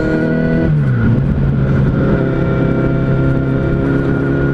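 A motorcycle engine hums loud and close while riding past semi-trailers on the highway, its pitch dipping as the rider eases off the throttle and then holding a steady drone over constant wind rush.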